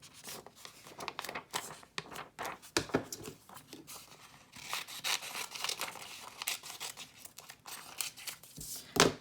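Pink paper being torn by hand for an iris folding card, close, irregular ripping and crinkling bursts of varying loudness across several seconds.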